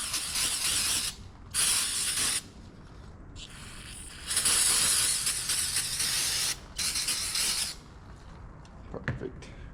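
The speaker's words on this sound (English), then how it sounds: "Spray some brake clean on it." Brake cleaner hisses from an aerosol can onto a tractor cover piece in several loud, close bursts of varying length separated by pauses, with faint handling clicks at the end.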